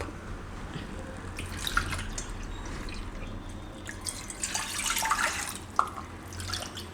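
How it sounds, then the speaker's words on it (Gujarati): Two cups of water are poured into a cooking pot in a home kitchen, with faint splashing and dripping, a few brief splashes standing out near the end. "તો આપણે આમાં પાણી નાખીશું બે કપ"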